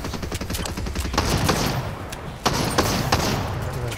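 Video game gunfire in rapid, dense bursts of shots, loud and close, with sharp single cracks standing out toward the end.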